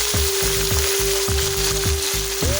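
Tanjliya greens drop into garlic frying in oil, setting off a loud, close, continuous sizzle over a steady low pulsing hum and a faint tone, with no voices.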